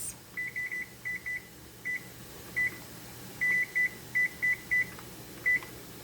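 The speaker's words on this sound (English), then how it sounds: "I'll have to set my timer" A kitchen timer is set for steamed rice cakes: a run of short, clear electronic beeps, single and in quick clusters, close over a quiet low hum.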